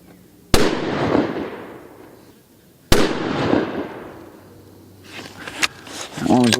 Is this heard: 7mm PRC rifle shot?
yes